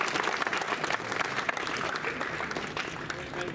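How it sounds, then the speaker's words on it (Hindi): Crowd at a BJP election rally in Bhadram, Chamba, applauding to welcome a Lok Sabha candidate, continuous clapping from many people at moderate volume with a faint murmur of voices underneath. "सभी तालियों के साथ स्वागत करें।"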